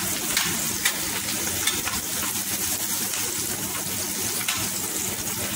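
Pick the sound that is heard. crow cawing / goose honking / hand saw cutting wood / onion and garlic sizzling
onion and garlic sizzling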